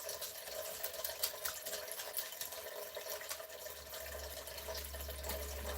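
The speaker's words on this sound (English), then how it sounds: "I just turned on my water for my pasta" A kitchen water tap runs steadily for pasta water, a continuous hissing rush of flowing water with a faint low hum building toward the end, no voices.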